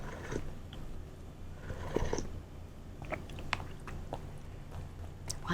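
Someone eats seolleongtang, a clear Korean beef bone soup, at a restaurant, with quiet, close chewing, slurping and scattered utensil clicks over a low room hum and no speech.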